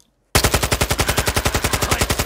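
Rapid automatic gunfire in Warzone 2.0 bursts in after a short silence and continues as a steady, loud stream of closely spaced shots.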